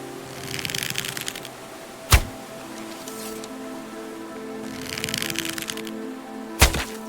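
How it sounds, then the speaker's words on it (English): Two sharp gunshots about four and a half seconds apart in the post-apocalyptic game Survive the Fall, each a loud isolated crack. A clattering, rattly burst comes just before each shot over a steady low hum. "The explosion was loud enough, and the rock flew down the slope"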